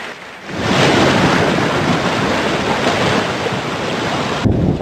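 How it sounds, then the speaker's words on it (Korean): Heavy typhoon rain and storm wind during Typhoon No. 10, lashing a flooded North Korean town with swamped roads and bridges; a dense, steady roar of rain and gusts, loud and continuous, swelling after a softer opening and with no voices. "많은 비가 계속 내리고 있습니다"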